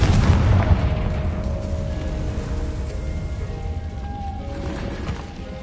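The Confringo explosion spell fires in Hogwarts Legacy: a heavy blast booms at the start, then a rumbling, crackling tail slowly fades over several seconds, loud and close, with no talking.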